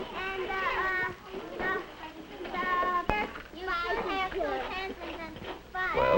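Children chattering and calling out together in a 1953 school classroom, a busy, continuous jumble of young voices with one sharp clatter partway through.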